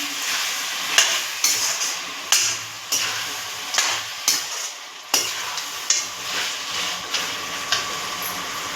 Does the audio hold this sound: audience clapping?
no